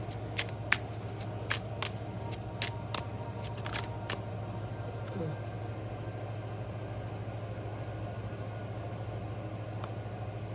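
Tarot cards are shuffled in a quick run of crisp riffling snaps over the first five seconds, close and fairly quiet, with a steady low hum underneath and no talking.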